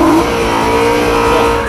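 A BMW M3 engine roars through a tuned quad exhaust, a sustained loud growl holding steady with a slight rising rev at the start, close and alone with no talk.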